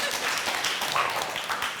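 A crowd applauding steadily, dense overlapping claps at moderate loudness throughout the short stretch.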